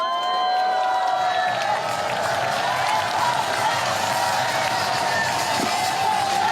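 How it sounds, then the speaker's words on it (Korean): Sustained applause and cheering from a large outdoor crowd at a presidential campaign rally in Yeongcheon, a dense, continuous wash of clapping that holds steady throughout. "여러분 큰 박수로 받아주시면 감사하겠습니다"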